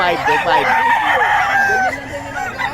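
A gamecock at a poultry seller in Bocaue crows once, close and clear, in a drawn-out call amid light background noise and faint voices.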